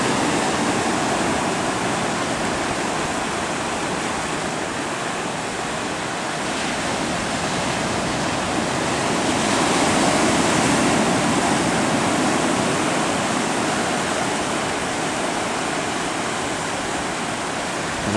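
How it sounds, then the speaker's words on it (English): Pacific Ocean surf crashes near the shore at Kailua Kona, Hawaii, a loud, continuous roar of breaking waves that swells slightly midway and stays steady with no talk. "you'll see a few more waves and hear a few more waves crashing"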